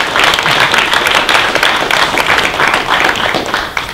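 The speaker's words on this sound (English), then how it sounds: "Give a round of applause for the puppeteers" Audience applause for puppeteers after a pet puppet show, a steady dense clapping from a crowd filling the whole stretch at an even, fairly loud level.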